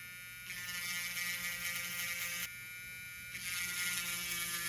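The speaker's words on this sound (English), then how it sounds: "I grab myself my handy dandy inscriber and I go ahead and I mark all my cases" An electric engraver buzzes against RC car differential cases in two sustained bursts with a pause between, a steady close high-pitched vibrating whine over faint background hum.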